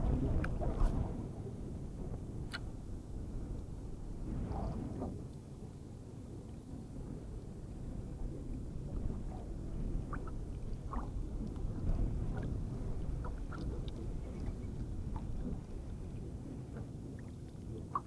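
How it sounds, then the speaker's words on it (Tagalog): Steady northeast monsoon wind buffeting a microphone outdoors while fishing in shallow sea water, a low continuous rumble with gusty swells and occasional faint knocks, no voices. "Ayan, mahangin."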